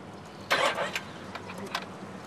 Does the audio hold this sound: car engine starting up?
yes